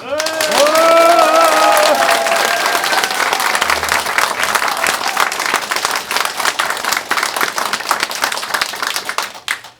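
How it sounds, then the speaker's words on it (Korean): A crowd at a political campaign rally breaks into warm applause, dense and loud at first with a short tonal sound early on, then thinning into scattered individual claps before fading out. "우리 다 같이 감사와 존경의 마음으로 뜨거운 박수 부탁드립니다"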